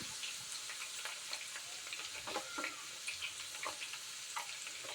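Cumin seeds crackle and fry in hot oil for a puffed rice snack, a fairly soft, steady sizzle dotted with small pops and stirring sounds, close and without speech.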